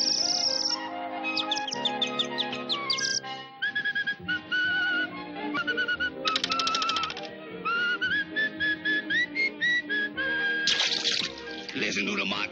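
Cartoon cat whistling a bright, warbling tune over busy orchestral music, with the melody in short phrases throughout.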